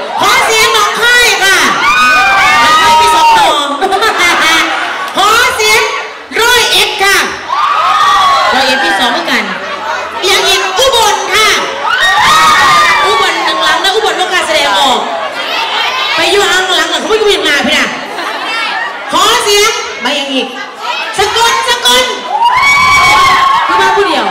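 A large crowd at a Thai festival in Amsterdam shouts and cheers loudly in repeated waves, with high excited voices and whoops mixed in and some chanting throughout.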